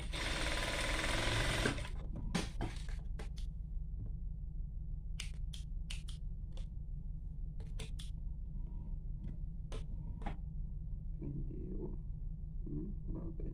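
A sewing machine stitches a seam on a fabric bag, a loud dense whir for the first two seconds, then stops, followed by scattered handling clicks and rustles over a low steady hum.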